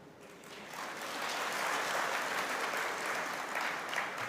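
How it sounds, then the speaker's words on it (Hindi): Audience applause at a spiritual talk, a dense wash of many hands clapping that swells after the first second and holds steady at moderate distance, with no speech over it. "अब आप लोगों ने ये तालियां क्यों बजाई हो मुझे बताएं।"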